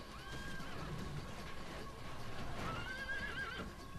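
Cavalry horses neighing on a Rome: Total War battlefield, a couple of shrill whinnies over hoof clip-clop and the steady din of battle, with faint talk beneath.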